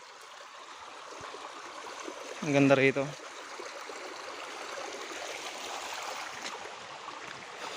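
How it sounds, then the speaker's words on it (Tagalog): Mountain water rushing down a channel toward rice paddies on a farm, a steady broad flowing wash throughout, with a brief voice speaking over it near the start. "tignan natin yan yung nagagaling sa bundok na tubig ayan o Oh."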